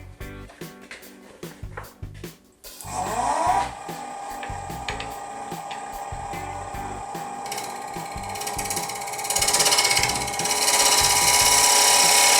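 A wood lathe spinning at 1000 RPM turns a tea light holder, starting with a few clicks and knocks before settling into a continuous whirring hum with a rough, rattling edge that grows louder toward the end.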